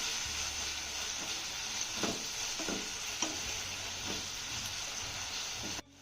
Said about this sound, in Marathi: चांगलं मिक्स करून घेऊया.